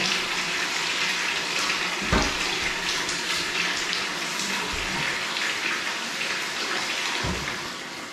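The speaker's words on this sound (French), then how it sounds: "j'ai fini d'installer la cuvette, j'ai remis l'eau, et maintenant on va voir si ça fuit" Water rushing steadily into a newly installed wall-hung toilet's cistern, a continuous hissing fill with a few low knocks and thuds along the way, close up with no talking.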